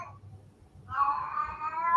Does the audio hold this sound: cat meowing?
yes